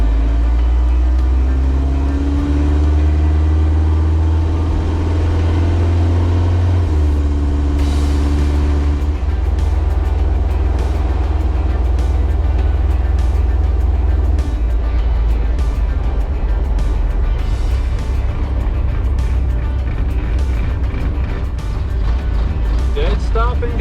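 A Kubota V2403 diesel engine running with its wastegate disabled and the fuel screw one full turn out, a loud low drone that shifts pitch as it revs, and a voice speaks over it briefly.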